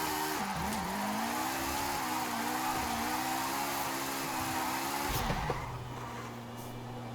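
A Toyota GR86 in Forza Horizon 5, tuned to a lightweight 300 horsepower with good tires and brakes, holds a loud, wavering engine note under load for several seconds before the tone suddenly drops back to a quieter, steady hum.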